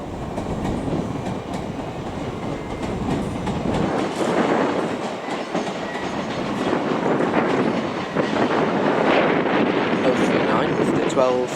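A class 334 electric multiple unit pulls out of Edinburgh Waverley station, a steady rumble and rolling wheel noise that builds and carries on throughout, with occasional clatter and a hum of station ambience.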